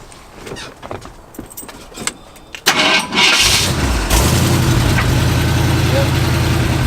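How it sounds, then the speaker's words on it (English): Keys jangle briefly, then a long-bed pickup truck engine cranks, catches and roars to life before settling into a loud, steady idle nearby. "Start it up real quick? Yeah, let's hear it."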